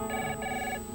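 A telephone rings twice in quick succession, two short electronic bursts heard faintly and close by with nothing else over them.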